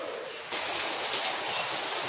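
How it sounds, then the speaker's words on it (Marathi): Steady, dense monsoon rainfall pours down continuously at a village home in Konkan, India, a broad even hiss that swells louder after the first half second. "पाऊस चालू आहे एकसारखा चालू आहे पाऊस"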